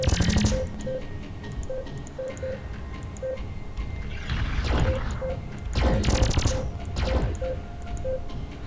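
Spaceship weapons firing in a Starpoint Gemini space battle against rogues, repeated blips of shots with swelling bursts of crackling impacts over a steady hum.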